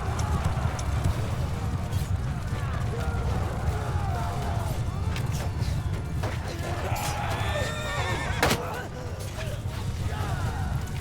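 Horses charge into battle in Mount & Blade II: Bannerlord, with thudding hooves, whinnies and clashing combat noise forming a dense, busy roar, while a voice talks over the fighting.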